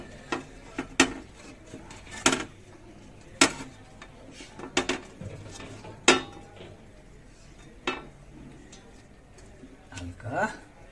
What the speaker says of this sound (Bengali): ঢাকনা থেকে আটাগুলো সরিয়ে দেবো